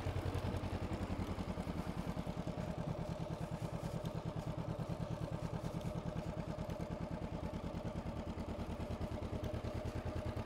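Motorcycle at a beginner riding lesson, its engine thrumming steadily with a rapid low pulse throughout, braking lightly and pulling away slowly, fairly close and continuous with no talk.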